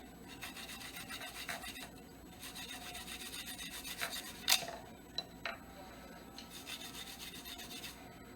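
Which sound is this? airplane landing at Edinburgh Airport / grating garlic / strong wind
grating garlic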